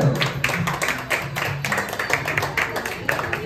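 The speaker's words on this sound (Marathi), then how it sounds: "सर्वांनी टाळ्या वाजवायच्या आहेत" A crowd of guests claps steadily to welcome a couple at a 50th wedding anniversary celebration, a dense patter of hands that runs throughout, with voices mixed in.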